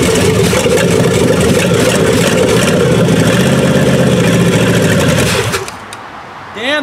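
A 400 small block V8 with its throttle cable disconnected runs at a loud, steady idle for most of the clip before cutting down to near quiet at the end, with a voice briefly heard over it.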